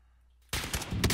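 Gunfire in the video game Call of Duty Warzone: after brief quiet, a loud, sudden burst of rapid shots with a heavy, sustained crackle continues to the end.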